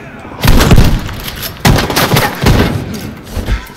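Gunfire in a video game, heard as a few loud, sharp bursts of shots close up, separated by short pauses over a constant background din.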